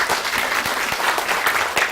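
Audience at a Korean history and culture lecture series applauds the lecturer, a steady wash of many hands clapping close and loud for the full stretch without pause.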